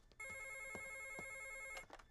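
A telephone rings with a steady electronic trill lasting about a second and a half, clear and close, with a few faint knocks around it and no talking.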